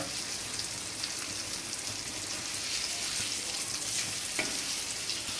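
Vanjaram fish frying in a pan over a steady flame, a loud, dense, continuous sizzle and crackle that holds evenly throughout with no voices.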